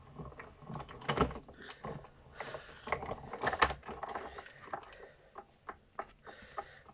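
A craft cutting machine slicing small paper sheets, a quiet run of mechanical clicks, whirs and tapping with irregular bursts of motor and blade movement close by, no voices.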